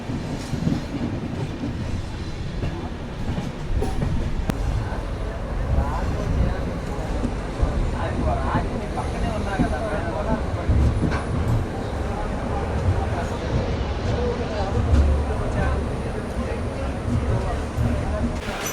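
The Sabari Superfast Express pulls into Secunderabad Junction with a steady rumble and clatter of rolling railcars, the wheels clicking over the rails and a faint squeal, amid crowd noise and speech on the platform.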